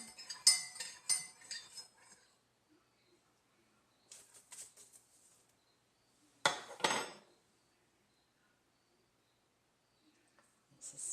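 Borax solution being stirred in a container, heard as quiet bursts of clinking and scraping against the sides separated by silent gaps, close and faint, with no talking.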